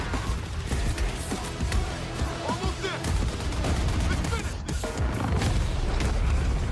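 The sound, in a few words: explosions and gunfire in video game Battlefield 6 multiplayer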